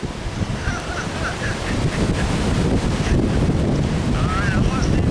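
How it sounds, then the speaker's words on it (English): Powerful storm wind in Columbus roars and batters the microphone outdoors, a loud, dense and continuous rush that holds steady for the whole stretch, with faint voices barely audible beneath it. "No, we're in the high wind now."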